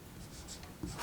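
A pen scratches across paper while working a logarithmic equation, brief quiet strokes in a short burst with a slightly firmer stroke near the end.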